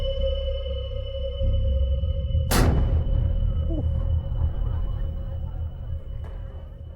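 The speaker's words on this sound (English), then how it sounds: "the boom it makes echoes over the city of Edinburgh below and out to the Firth of Forth" Time gun fired from Edinburgh Castle: one sharp, loud boom about midway that echoes and decays over the city, with a faint steady hum beneath.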